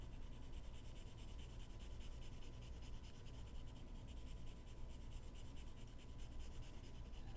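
Light 4H pencil shading across drawing paper, a soft, steady scratchy rubbing in quick repeated strokes, faint and close, with no talking.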